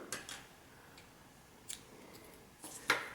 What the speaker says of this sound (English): Go ahead and chain one and cut your yarn.